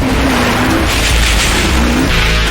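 A Mercedes G-Wagon 4x4 drives past with a loud, steady engine roar, its pitch rising slightly near the end, accompanied by broad road and wind noise throughout.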